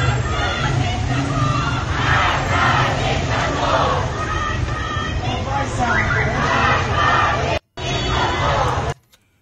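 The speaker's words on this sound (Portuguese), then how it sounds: "o pessoal no trem é, gritando morte ao ditador." A crowd of protesters aboard a train during the Iran protests chants an anti-government slogan in loud rhythmic unison, with shouting voices filling the carriage before cutting off abruptly near the end.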